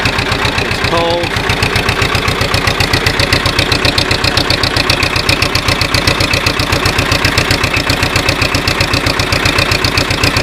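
An old-style diesel tractor runs in the cold just after starting, its engine clattering at a fast, steady, even beat, loud and close throughout.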